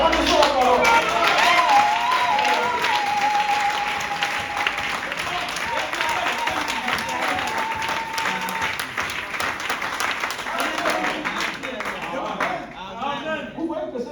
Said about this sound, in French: Applaudissons la parole.